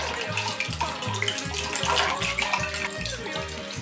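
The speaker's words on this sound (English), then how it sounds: "A perfect pour." Jim Beam whiskey pours steadily into glasses with a continuous liquid gush, partly masked by loud rhythmic music with a heavy, regular beat.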